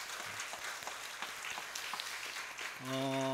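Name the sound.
church congregation applauding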